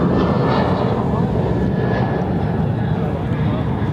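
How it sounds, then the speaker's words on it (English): An Atlas Air Boeing 747-400 freighter arriving from Anchorage roars in to land at Chicago O'Hare, a loud, steady, broadband jet rumble sustained throughout. "This is Atlas Air 8710 coming in from Anchorage."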